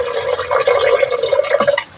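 Tamarind pulp is poured into a pot of drumstick sambar, giving a close, continuous liquid pour that trails off abruptly near the end.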